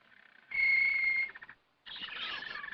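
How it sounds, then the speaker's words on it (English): Canaries in a pet shop give bright, clear trilling song in two separate bursts with a short gap between them, close by and fairly loud in a quiet room. "I want a nice singing canary."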